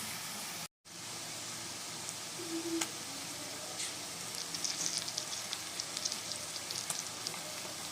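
Ginger, garlic and green chili paste frying on low flame for a Bengali mutton curry, a steady soft sizzle with faint stirring clicks, near and continuous after a brief dropout at the start.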